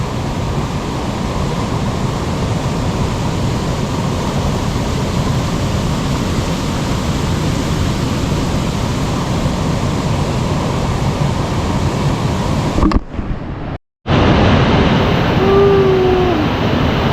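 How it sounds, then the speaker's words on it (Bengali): A waterfall near Ubud, Bali roars in a dense, steady wash of broadband noise, loud and unbroken apart from a brief dropout near the end. "আমাদের ব্যাকে হচ্ছে ঝর্ণাটা"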